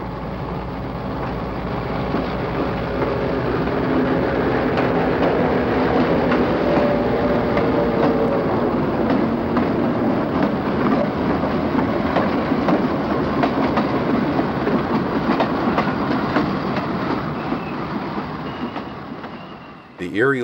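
A long Conrail freight train hauled by Erie Lackawanna locomotives, leaving Croxton Yard, rumbles steadily past close by, with a continuous rolling roar and rattling wheels that fade near the end.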